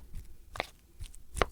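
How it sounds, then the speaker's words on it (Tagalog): Knife slicing a ripe banana into rounds on a board, a few soft, separate cutting taps spaced irregularly, close and fairly quiet with no talk. "Sa akin naman ito pabilog yung hiwa ko"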